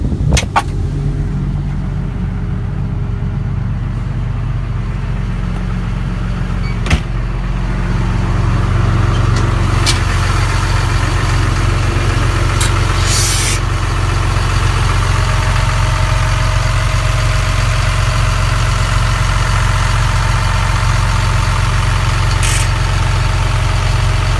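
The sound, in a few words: John Deere 544K wheel loader engine idling with parking brake set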